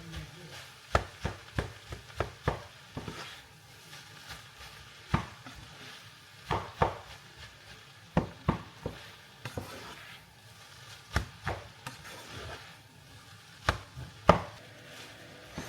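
Freshly cooked rice being mixed into fried rice in a pan, with a series of sharp irregular scraping and tapping strokes of a utensil against the pan over a faint background sizzle, no talking.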